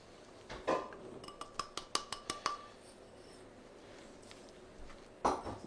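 Utensils clink and scrape against a bowl while cracker dough ingredients such as flour, salt, thyme and oregano are mixed, with a quick run of sharp taps in the middle and a louder scrape near the end.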